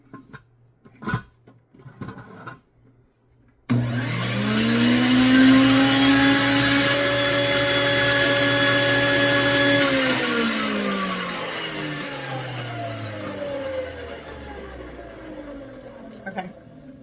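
A stand mixer churns bread dough of wheat flour, lemon juice, oil, honey and salt on low speed, a steady close motor whine with a rising harmonic hum that holds for several seconds, then slowly winds down in pitch as it stops.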